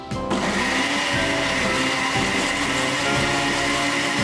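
A blender roars steadily, whirring a spicy sauce of lemon juice, salt, pepper, paprika, oregano and olive oil at constant loud speed, the motor hum unbroken from start to finish.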